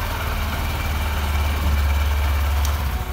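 A Honda SP 125 motorcycle from 2022, a BS6 model, idles just after starting, giving a steady low engine rumble with a constant mechanical hum that runs unbroken and fairly loud throughout.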